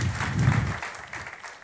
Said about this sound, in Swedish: Varm applåd för er.